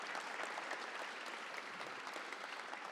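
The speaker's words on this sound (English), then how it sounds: "Give them a nice round of applause" Dense, even applause from a large audience at a transit agency's State of the Agency event, honoring frontline staff, a continuous wash of clapping from start to finish with no speech over it.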